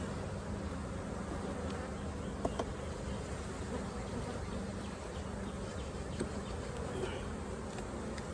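Honeybees buzz steadily around beehives outdoors, a dense continuous drone close by that fills the whole stretch at an even level, with a few faint clicks and no talking.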